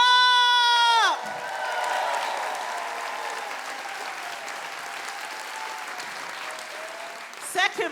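A comedy competition audience at Leicester Mercury Comedian of the Year 2023 bursts into steady, full-room applause for the third-place finisher. A drawn-out announcing voice comes first, and the clapping carries on for several seconds before a few louder hits near the end.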